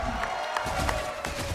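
A live crowd at a Mobile Legends esports match between Aura Fire and EVOS Legends roars with cheers and scattered clapping, a dense, continuous wash of noise filling the arena.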